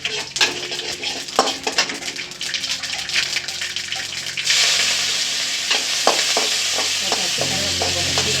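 Curry leaves and dried red chillies crackle and sizzle in hot oil for temple-style tamarind rice, with scraping stirs. The steady frying noise jumps louder about halfway through, and no one speaks.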